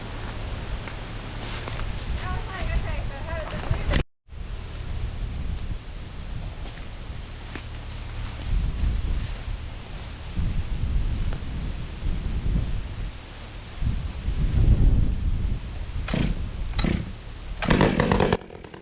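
Strong wind gusts roar steadily around the removal of a 100-year-old red oak 6.5 feet across, broadband rushing that swells and fades, with a brief cut near the start and low rumbling surges throughout.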